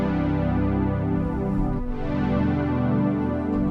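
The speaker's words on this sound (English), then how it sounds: "Instead of the piano sound, I like this pad sound. It sounds like this." Lush, sustained synth pad in an R&B beat, a thick, continuous wash of chords that shift once partway through, steady and full with no voices.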